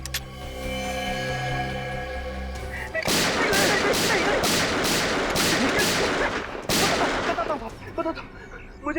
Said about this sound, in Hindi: बस 4 गोलियां दाएं पैर में और 4 गोलियां बाएं पैर में ठोक दो